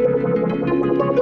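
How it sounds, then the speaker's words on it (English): A harp runs through a Color Tone Roundhouse effects pedal, giving a brief, dense, sustained processed tone with a wavering, warbling texture, close and loud. "plug my harp into the color tone roundhouse, which sounds like this"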